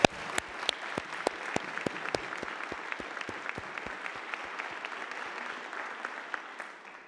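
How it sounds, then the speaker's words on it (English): A ceremony audience applauds at the Interpol 100-year commemoration, a dense wash of many hands clapping with sharp individual claps standing out, steady for several seconds and then tapering slightly at the end. "Let's have a round of applause for all of them."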